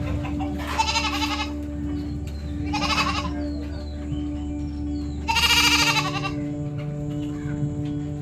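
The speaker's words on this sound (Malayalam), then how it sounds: "പിക്മി ആടുകൾ" Pygmy goats bleat three times, loud and close, with pauses between the calls over a steady low hum.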